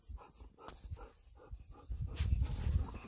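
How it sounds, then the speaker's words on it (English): Dogs panting in quick, rhythmic breaths close by, growing louder and heavier toward the end, with no talking. "Here we go, puppy dogs."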